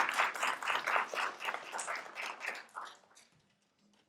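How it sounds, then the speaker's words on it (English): Scattered audience clapping at a political event, a brief burst of applause that thins out and fades to near silence. "Let's give him a round of applause, and doTERRA also."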